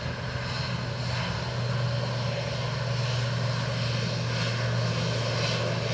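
A Lufthansa airliner landing on runway 28 left at Dublin Airport, heard as a steady, loud engine roar with a low hum that holds evenly throughout, with no voices.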